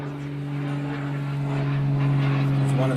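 Local farmer's propeller plane flying low over a provincial T20 cricket match, a steady droning engine hum that grows slightly louder, heard beneath a commentator speaking.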